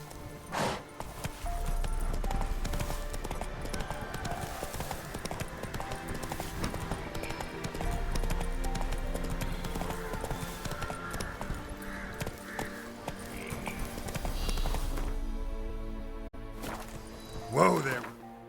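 The horse Roach trotting in The Witcher 3 video game, with steady rhythmic hoof clip-clops running throughout under game music, and a brief voice near the end.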